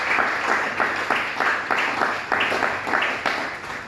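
A church congregation applauding steadily, a soft even patter of many hands clapping with slight rhythmic swells, moderately distant.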